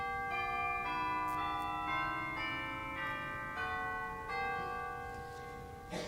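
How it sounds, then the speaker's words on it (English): A church bell tolls at the end of a service, ringing out in several overlapping strikes with long sustained, shimmering tones that decay slowly, loud and close with no talk. "at the end of a service, you will toll a bell"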